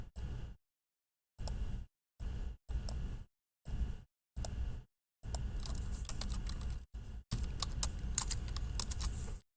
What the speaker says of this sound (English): I'm just typing this in up over to the side here